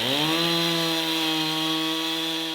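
An old chainsaw engine runs close by at steady high revs, its loud buzzing drone holding an even pitch for a couple of seconds with no voices.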